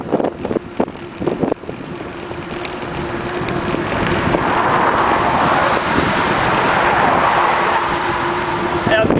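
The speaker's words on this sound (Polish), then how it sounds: "widać samochody jadą z jednej, z drugiej." Cars travel in both directions on a city road in Kielce, heard from a moving bicycle: a rising, continuous traffic rumble with wind noise, preceded by a few sharp knocks and joined by someone talking.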